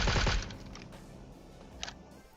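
Suppressed gunfire from an MK rifle in PUBG Mobile, a quick burst of loud clattering shots at the start that fades into low ambient game noise, with a faint tap or two later.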